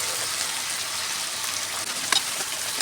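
Onions and tomatoes sautéing in a pan for channa masala, a soft even sizzle with a few sharper crackles near the end, close and without talk.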